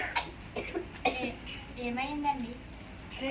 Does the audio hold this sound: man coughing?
yes